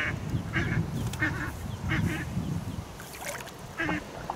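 A man at a fishing lake imitates duck quacks, giving a series of nasal, honking calls in uneven bursts over soft outdoor background noise.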